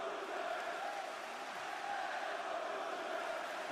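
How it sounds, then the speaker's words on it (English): Wrestling crowd in an arena cheering for Gunther, a steady roar of many voices held throughout, loud and continuous. "They're cheering for Gunther?"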